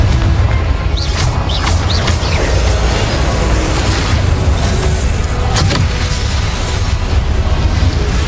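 Confringo blasting curses erupt during Hogwarts Legacy combat, loud, continuous booming blasts with crashing debris and sharp magical bursts layered into a dense, unbroken roar.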